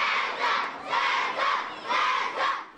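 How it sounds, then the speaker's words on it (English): More than 400 children screaming and shouting together at a Christmas event awaiting Santa's arrival on a Los Angeles city fire engine, loud surging waves of crowd yells rising and falling. "More than 400 screaming children called out his name."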